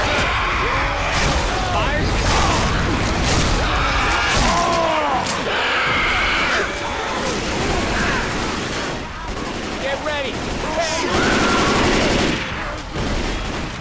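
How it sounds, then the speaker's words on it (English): Rapid blasts of an auto shotgun in the game Left 4 Dead 2, loud repeated shots over dense gameplay noise and shouted talk throughout. "Auto shotgun lang yan."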